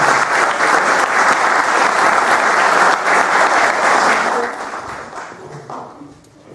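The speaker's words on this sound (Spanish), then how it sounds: "Quiero también que le demos un cariñoso aplauso a quien va a exponer a continuación, la doctora Irene Ferrer." Warm applause from a seated audience at a formal session, full and loud for several seconds before thinning out and fading away toward the end.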